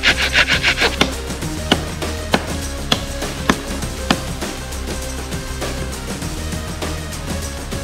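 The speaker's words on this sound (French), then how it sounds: "je vais prendre la hache, la scie, on va essayer d'ouvrir pour que le 4x4 puisse passer dessous" A hand saw cuts through a fallen tree blocking a 4x4 track in France, starting with a quick burst of rasping strokes and then settling into slower, evenly spaced sawing pulls, close and alone.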